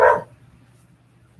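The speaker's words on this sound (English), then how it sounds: "Oh, I hate dogs. That stupid noise." A single short, loud dog bark up close, cut off abruptly and followed by near silence.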